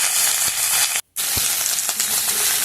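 Sliced radish and flat beans sizzle steadily in hot oil in a pan for a vegetarian Bengali cauliflower-stalk chorchori, a loud continuous frying hiss broken by a brief silent gap, with a few soft stirring knocks.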